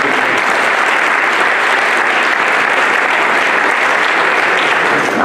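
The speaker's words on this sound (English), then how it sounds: "at this point, yes, let's give them applause" A crowd applauds candidates at a state Republican Party chairman debate, a dense, steady wash of clapping that holds loud and even for the whole stretch with no voices over it.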